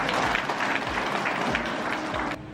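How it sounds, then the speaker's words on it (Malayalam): An audience at a health talk breaks into brisk, dense clapping that carries steadily for about two seconds, then cuts off sharply. "ഇപ്പൊ നിങ്ങൾ കൈയടിക്കണം ശരിക്കും കൈയടിക്കണം"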